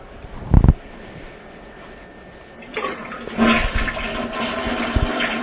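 A short clunk, then a toilet flushes with loud, rushing, gurgling water that swells and keeps draining steadily to the end.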